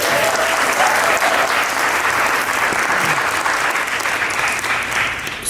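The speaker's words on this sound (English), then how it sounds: "Give a round of applause to Dr." Symposium audience applauding steadily in a hall, dense clapping that stays loud for several seconds before easing slightly at the end.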